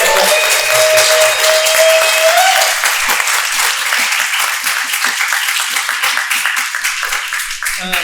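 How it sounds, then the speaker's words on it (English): Loud, sustained applause from an audience, with dense crisp clapping that carries on for several seconds. Voices are heard briefly at the start. "One more round of applause for Ammar and Adeem for their help."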